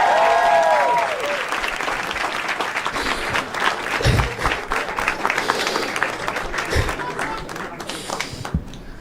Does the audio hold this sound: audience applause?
yes